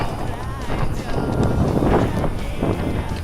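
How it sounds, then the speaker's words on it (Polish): Wind buffets the microphone in rough low gusts during a night walk, with a person talking and footsteps underneath. "wieje wiatr"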